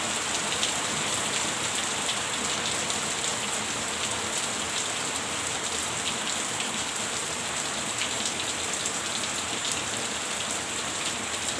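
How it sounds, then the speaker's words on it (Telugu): Steady heavy rain pours down without a break, a dense continuous hiss of drops hitting surfaces, loud and close throughout with no voices. "సడన్గా పడిపోయింది వాన"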